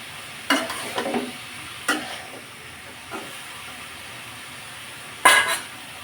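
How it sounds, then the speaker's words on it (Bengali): Cabbage being fried in oil in a pan, with a low steady hiss broken by a handful of short, sharp bursts of stirring and scraping, close by and with no talk. "আগে তেলের সাথে বাঁধাকপিটা ভাজা করে নিচ্ছিলাম"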